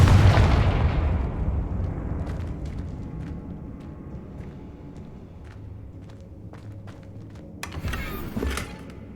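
A Confringo spell blast from Hogwarts Legacy opens with a loud, booming explosion that decays over several seconds. Scattered clicks and small impacts follow, then a second, sharper burst near the end. No voices are heard.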